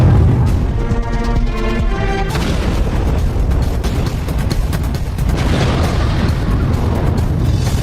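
A bomb blast tears apart a ship at sea, giving a loud, sustained rumbling roar of explosion with crackling debris that persists at high level throughout, without any voices.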